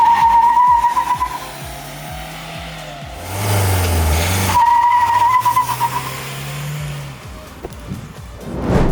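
Kia Carens iMT diesel car revving and pulling away in first gear, a loud close engine note rising and falling with throttle bursts, a sustained roar in the middle, then settling.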